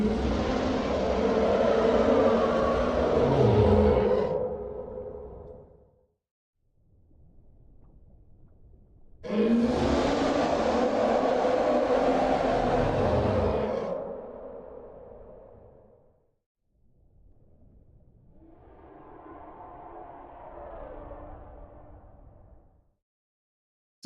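A video game monster's roar: three long, deep monstrous roars, each lasting several seconds, separated by lower growling rumbles, loud and close.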